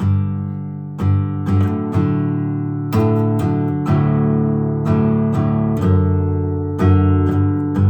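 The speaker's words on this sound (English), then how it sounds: "I show you the strumming patterns that I like" Acoustic guitar strummed in a steady, repeating pattern of full chords, bright and close, with accented strokes about once a second and no voices.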